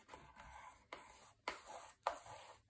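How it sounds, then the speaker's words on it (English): A bone folder rolls and rubs over paper on a mini album cover, giving faint, close, soft swishing strokes at a steady rhythm, about four passes. "I'm just going to start to roll my bone folder over"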